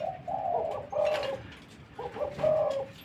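Soft, rolling coos from a zebra dove, two short phrases a moment apart, close and clear against a quiet background.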